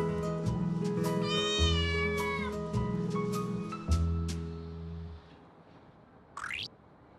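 Several street cats meow in a restaurant alley in Gwangju, with repeated drawn-out, close calls over a steady low hum and a brief rising squeak near the end.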